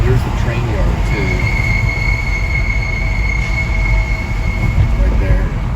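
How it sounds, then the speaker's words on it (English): A train rolling through a rail yard at night near a city skyline, loud steady rumble with a long metallic wheel squeal ringing over it, close and continuous. "Here's the train yard too."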